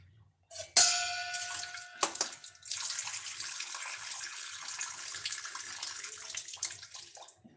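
Cooked pasta is rinsed under cold running tap water in a kitchen sink, with a metallic clang from the pot at the start, then a steady, moderately close gush of water.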